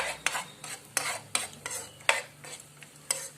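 Raisins and cashews fry together in a pan for rava kesari, stirred in a steady rhythm of roughly one scrape every half second over a soft sizzle, close and without voices.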